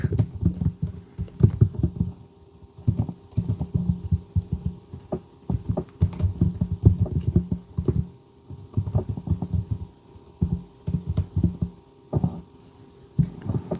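Continuous keyboard typing during a live stream while something is looked up online: dense, fast, muffled tapping running almost without a break, close to the microphone, over a low background hum, with no talking.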